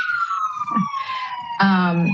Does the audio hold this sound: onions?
no